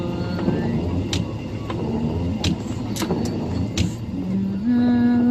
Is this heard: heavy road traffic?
yes